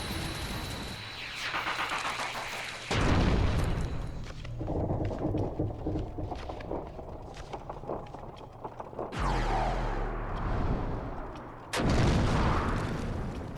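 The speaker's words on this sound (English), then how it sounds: "Oh, he's defeated and explodes in a blaze of heart." A defeated boss in Kingdom Hearts bursts apart in a fiery explosion: dense, heavy booming blasts that rise and fall over several seconds, with loud, repeated impacts throughout.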